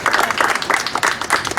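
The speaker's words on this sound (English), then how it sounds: "Let's give him a strong round of applause." An audience at a public business-report event gives a short burst of steady applause, many hands clapping together close by.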